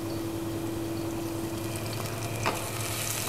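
Ginger and garlic frying in oil in a pan, a steady quiet sizzle with a faint stir or scrape near the end, no talking.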